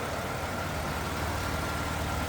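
The 3.8 liter GM engine of a 1991 Oldsmobile 98 Regency Elite idles steadily up close, a continuous even rumble with no talk.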